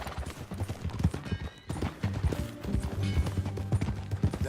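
Horse hooves clip-clop steadily and close by in Red Dead Redemption 2. The quick, even beats run on with a brief pause, over faint background music.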